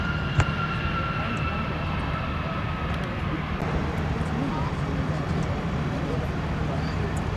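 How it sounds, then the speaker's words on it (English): An Austrian Airlines Boeing 777 taxis at Chicago O'Hare, heard from the ramp close by. Its engines give a steady, broad roar with a faint high whine, continuous throughout, and voices talk over it. "We have an Austrian Airlines Boeing 777 taxiing in."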